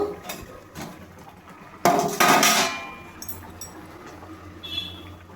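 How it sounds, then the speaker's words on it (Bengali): Metal pot lid lifted off a pot of mango pickle cooking on the stove: a sharp clatter followed by a second scraping clank, then quieter kitchen noise. "এবার ঢাকাটা খুলে দেখে নেব"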